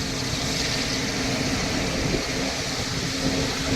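Jet airliner engines roaring during takeoff at Mumbai international airport, heard from a hill viewpoint in Kurla as a continuous broad rumble and hiss that stays steady and fairly loud.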